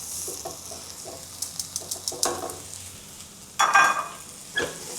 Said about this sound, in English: Now add the rice, the clean raw rice.